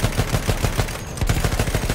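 Strafing gunfire in the video game Battlefield 1: a rapid, steady machine-gun rhythm of loud shots, briefly broken in the middle before the firing resumes, close and dominant.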